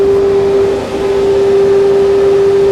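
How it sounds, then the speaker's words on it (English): Dust extraction system running in a woodturning workshop, a loud steady droning hum with a constant tone and a brief dip, close and alone with no talking. "And I will put on some sort of extraction here"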